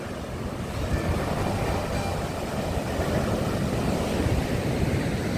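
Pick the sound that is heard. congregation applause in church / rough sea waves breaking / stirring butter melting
rough sea waves breaking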